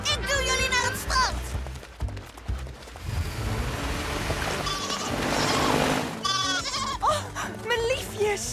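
Cartoon goats bleat in several wavering cries over a busy music and effects bed, with animated characters talking around them during a beach rescue scene from a children's show.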